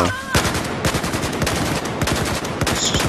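Loud automatic gunfire from the video game Battlefield 4 hammers in rapid, continuous bursts, with overlapping shots from several weapons close by.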